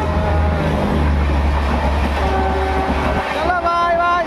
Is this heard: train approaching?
yes